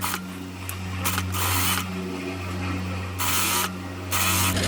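A sewing machine back tacks along the top hem of an apron pocket, its needle mechanism chattering in several short rapid bursts separated by brief pauses, close and fairly loud.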